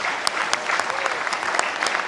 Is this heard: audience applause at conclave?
yes